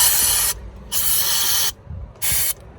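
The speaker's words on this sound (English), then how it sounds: "I need to clean that out a bit with some brake cleaner" Brake cleaner hisses from an aerosol can onto brake caliper pins of a Citroen C1 in three close bursts, the middle one longest, with short quiet gaps between.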